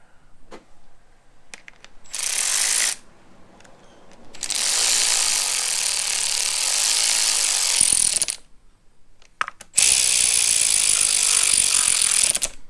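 A ratchet snugging down bolts on a Subaru timing belt shield of a 2008 Impreza 2.5, bursts of rapid close clicking in three runs separated by short pauses.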